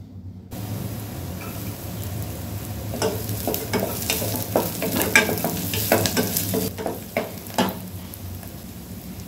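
Fresh ginger and garlic fry in a pan for sweet corn ragi soup, a continuous sizzle under repeated scraping and clacking of a spoon stirring, starting after a brief silent moment.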